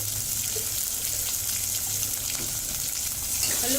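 Onions with rock salt sauté in a pan for Tamil prawn white kurma, giving a steady hiss and gentle sizzle with no voices.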